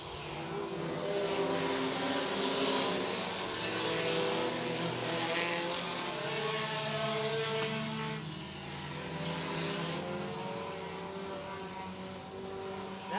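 Stock compact race cars roar off at the start of a feature race at Mt. Lawn Speedway, a dense pack of engines revving and accelerating together with layered droning tones that swell and shift as the field passes.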